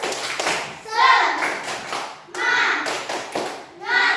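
Schoolchildren in an Indonesian elementary classroom perform a rhythmic morning spirit clap, with several quick bursts of group clapping in patterned rounds and young voices chanting along between the claps.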